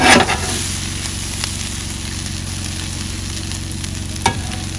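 Italian buffalo sausage sizzles steadily on a Blackstone griddle, a close, continuous frying hiss with a brief scrape or clink near the end and no talking.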